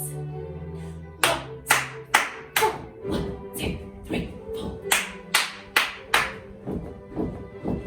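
Children in a ballet class for four-to-seven-year-olds clap in unison, about a dozen sharp claps in a steady beat after a short counted-in pause, with a voice counting along at the start.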